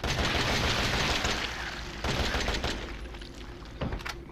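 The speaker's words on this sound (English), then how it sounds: "You really rinse through assault rifle ammo quickly." Rapid assault rifle bursts from Resident Evil 7 played in VR, a dense run of loud gunfire that thins after the first second and a half, then picks up again in shorter clusters.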